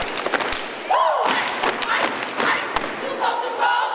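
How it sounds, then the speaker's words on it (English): A national champion step team stomps at a school pep rally, with heavy rhythmic thuds and claps over a cheering gym crowd and shouting voices. "South Mountain's national champion step team pumped up the crowd"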